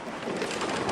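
Rain and thunder from The Journeyman Project 3: Legacy of Time, a steady, close hiss of rainfall with a low rumble underneath for about a second.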